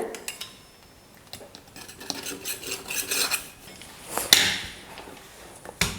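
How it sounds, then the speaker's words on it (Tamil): A knife cutting samosa pastry sheets on a board, scattered taps and scrapes of metal against the surface with a few sharper clinks, close but fairly quiet, with no talk. "சமமாக நான் வந்து கட் பண்ணி எடுத்துடுறேன்."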